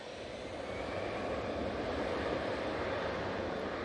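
EasyJet Airbus A320 on its takeoff roll at Manchester Airport, a steady broadband jet roar heard from a distance with no talking.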